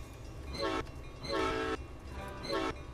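Locomotive horn in the Railworks train simulator, sounded in three separate blasts of under half a second each over a steady low rumble of the train, with no voices.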